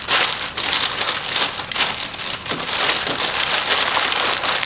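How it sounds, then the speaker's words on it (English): Nutcracker accessory being wrapped in packing paper, a continuous loud crinkling and rustling close by that swells and dips for several seconds. "Go ahead and wrap that up in the paper."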